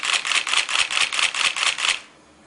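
A Nikon D90 DSLR shutter fires in a rapid continuous burst of about nine even clicks for two seconds at 4.5 frames per second, then stops.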